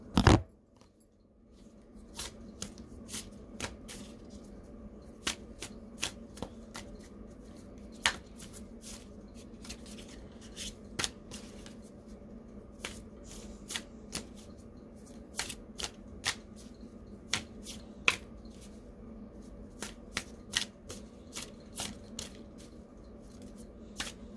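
A deck of oracle cards is shuffled by hand, a steady papery riffle with scattered sharp card snaps and taps repeating throughout, close and fairly soft over a faint background hum.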